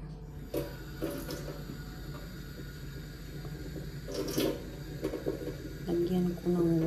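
Water pours into an ube roll pan with a steady splashing wash, close and fairly quiet, while someone talks.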